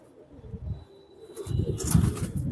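A female Safchila pigeon and others coo in a loft, with low soft murmurs that swell louder in the second half over faint background noise.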